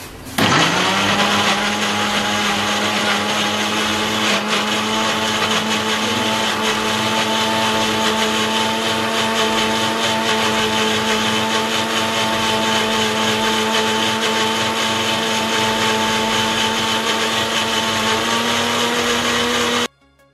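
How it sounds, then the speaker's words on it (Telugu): Kitchen mixer grinder blending cucumber, ginger, coriander and a glass of cool water, a loud steady motor whine running nonstop for about twenty seconds before switching off, with no talking. "నున్నగా మిక్సీ పట్టుకున్నామండి."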